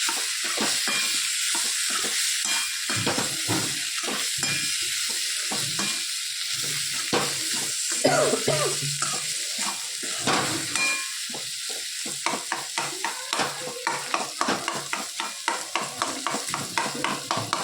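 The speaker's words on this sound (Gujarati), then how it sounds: "થોડા વચ્ચે વચ્ચે આવી રીતે મિક્સ કરતા જઈએ." Potatoes stirred into spiced bhaji frying in a pan, a constant close sizzle with rhythmic spoon scrapes against the pan that speed into quick, regular strokes toward the end, with no one speaking.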